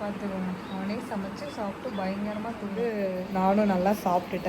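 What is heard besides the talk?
No everyday noises stand out.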